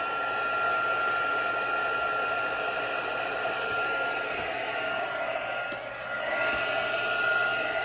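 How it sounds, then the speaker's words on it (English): A heat embossing tool blows hot air over stamped craft work, giving a steady, close, unbroken whooshing hum from start to finish with no talking. "Grab my heat tool. Turn it on."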